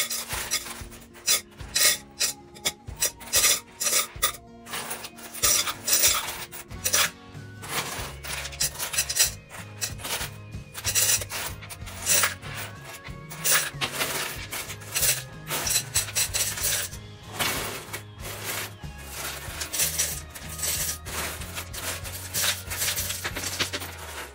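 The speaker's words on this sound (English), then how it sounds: "I have to pack it all back up into something, so I might as well put it all back into this jar" A big pile of saved coins is shoved and poured back into a jar, making a continuous rattling, scraping jingle with loud clinks and bursts of metal-on-metal that stay close and busy throughout.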